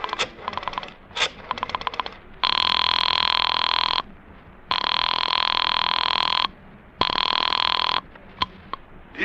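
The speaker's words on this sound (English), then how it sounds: "I dug through the telephone book and I found Dr. Matson B. Forsyth's number and I dialed it" A telephone on an old time radio show is dialed with rapid rotary clicks, then rings in three long loud bursts separated by short pauses.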